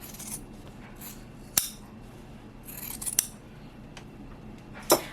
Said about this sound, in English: And trim the seam allowance on this as well.